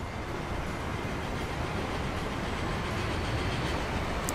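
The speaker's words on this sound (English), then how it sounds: "These trains make them really strange noises." Trains running in the game Transport Fever, a steady dense rumble of rolling rail noise with no clear breaks, moderately loud and continuous throughout, with no talking.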